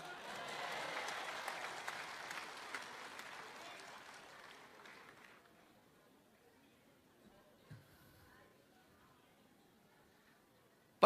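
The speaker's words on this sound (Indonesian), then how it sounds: "Boleh tepuk tangan?" Audience applause at a Christmas gathering, a crowd clapping briskly for about five seconds, then fading into quiet murmurs and a few scattered claps.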